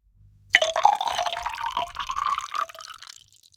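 Synthetic AI-generated water pours into a glass, a bright splashing trickle that starts abruptly and runs for about two seconds before tapering off, alone and close.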